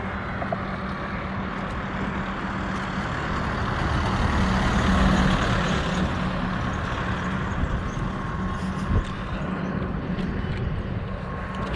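Vehicles pass along the Delhi–Agra highway with a continuous broad roar of engines and tyres, swelling midway as a heavy vehicle goes by, without voices.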